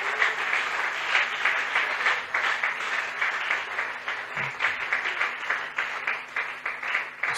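Church congregation at a community worship service breaking into sustained applause and cheering, dense and steady clapping from a large crowd with raised voices mixed in, lasting the whole stretch.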